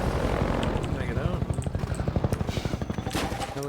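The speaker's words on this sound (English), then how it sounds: "Helicopter bombing run." Helicopter gunship in the Half-Life 2 video game making a bombing run, a loud continuous rotor thrum with rapid rhythmic chopping pulses and scattered sharp bangs, game sounds filling the whole stretch.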